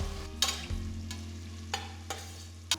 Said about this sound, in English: Saute the onions till they are a nice golden brown color.